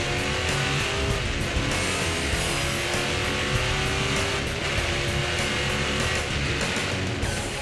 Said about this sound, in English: On his second lap, Stron's wet weather skills shine through as he makes an impressive pass.